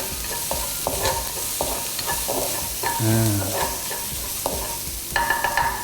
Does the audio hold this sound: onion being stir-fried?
yes